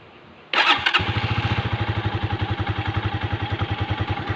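A carburetted 150 cc motorcycle engine cranks and fires up, then settles into a steady, throbbing idle close by.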